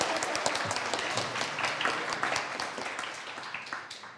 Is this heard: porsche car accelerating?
no